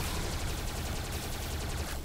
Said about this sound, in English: We've got all these like cool extra Teslas who are going around shooting stuff.